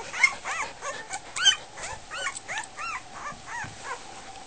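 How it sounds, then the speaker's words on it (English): A Goldendoodle puppy whines and whimpers in a rapid series of high, wavering cries, close by with no talk over it. "that's Miss White here making a little noise"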